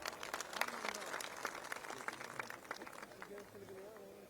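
Audience applause for a minister at a public gathering in Rajasthan, a dense patter of clapping mixed with voices talking over it, fairly faint and steady throughout.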